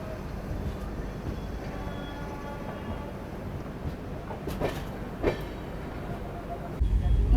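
Poorva SF Express train running at speed on the New Delhi–Howrah line, heard from inside the coach as a loud, steady rumble with a few faint rail clicks, then a brief louder surge at the end.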